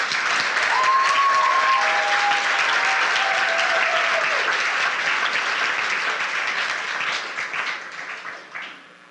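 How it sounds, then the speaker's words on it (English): An audience applauds the ambassador candidates at a community fun fest coronation: dense, sustained clapping from a large crowd that holds steady and then gradually thins out, with a few voices mixed in. "Let's give our candidates one final round of applause."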